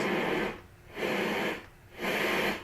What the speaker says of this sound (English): That's the setting that I use, and that is a white noise sound.